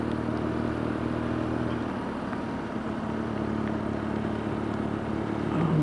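A BMW R nineT Scrambler motorcycle rides on a wet road in the rain, its engine droning steadily under continuous broad tyre and spray hiss, close and even throughout.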